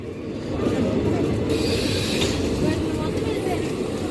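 A locomotive-hauled passenger train on the Raipur–Visakhapatnam line rumbles past nearby, a loud, steady rolling roar with faint rail clatter.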